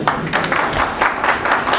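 An audience at a rural media workshop claps together, a dense, lively patter of many hands at close range, steady throughout with no voices.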